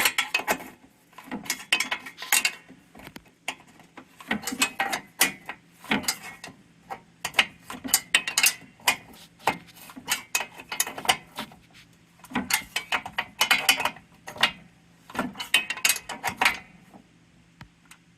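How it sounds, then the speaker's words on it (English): Metallic ratcheting clicks and ticks from tightening a bolt on a Toro Power Clear snowblower, in quick irregular bursts of close, sharp clatter with short pauses between. "Now I gotta tighten that down a little bit."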